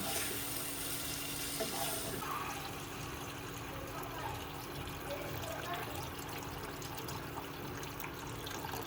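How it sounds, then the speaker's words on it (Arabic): Food toasting in a pan as water is poured over it, a faint, steady sizzling hiss that shifts partway through, with a low background hum. "هلا رح احمصهم شوي بنزل عليهم المي حتى يستوى"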